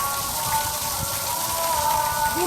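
Steady rain falls at sunset during a thunderstorm, a continuous close hiss of drops on surfaces with no distinct thunder.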